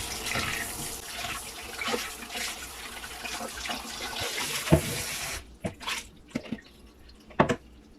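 Tap water runs and splashes steadily while peeled mandarin orange segments are rinsed in a sink, then it stops and leaves scattered drips and handling clatters.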